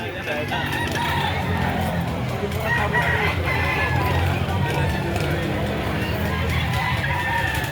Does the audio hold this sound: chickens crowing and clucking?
yes